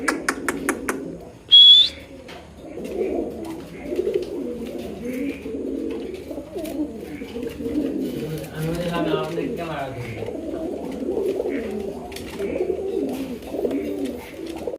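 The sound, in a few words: lotan pigeons cooing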